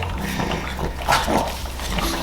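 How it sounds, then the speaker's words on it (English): A companion dog vocalizes close by with short, low whimpering grunts and yips over a steady indoor background hum. "He's like my companion dog right here"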